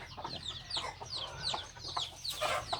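Several chickens cluck and chatter close by in quick, overlapping bursts, with a faint low hum behind them.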